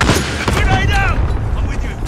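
Grenade blasts and stun-grenade bursts in Modern Warfare multiplayer gameplay crackle loudly and close amid gunfire, while shouted voice callouts play over the explosions.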